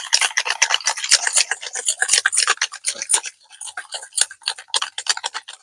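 Sugar being stirred by hand into palm fruit pulp in a steel bowl, with a pinch of salt, giving a steady run of quick scraping, ticking strokes close up with no talk.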